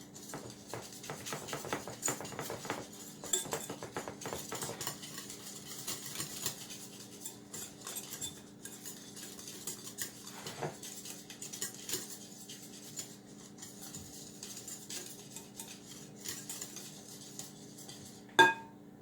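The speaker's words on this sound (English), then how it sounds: "I'm stirring the seasoning into my mayonnaise right now." A spoon stirs seasoning into mayonnaise in a bowl for homemade macaroni salad. It makes continuous soft scraping with frequent light clinks against the bowl, quiet and close, ending in one sharper tap, with no speech.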